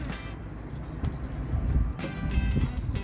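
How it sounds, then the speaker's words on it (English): Steady wind buffets the microphone with low rumbling gusts, swelling stronger in the second half, with no voices. "it's kind of windy here"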